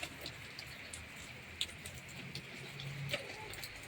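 Steady rain pours down with a continuous soft hiss, scattered close drips and taps ticking through it, and no talk.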